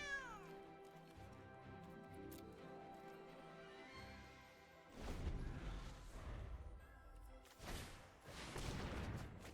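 Cat meows in the digital card game MTG Arena: a clear meow at the start over soft musical tones, followed by bursts of louder crashing game effects.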